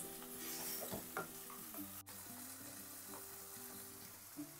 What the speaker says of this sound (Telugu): గార్లిక్ తీసుకొని ఇలా వేసుకోవాలి. సో మంచిగా ఇది కొంచెం ఫ్రై అయ్యే వరకు కుక్ చేసుకోవాలన్నమాట.